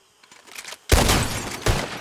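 Gunshots fired at bottles in Red Dead Redemption 2 follow a few quiet clicks: a loud, close blast, then a second crack less than a second later, each ringing out with a rough tail.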